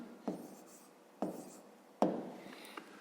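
Pen or pencil strokes on paper while numbers are written down for a fifth-grade math exercise: three short scratchy bursts, close and quiet, with no voices.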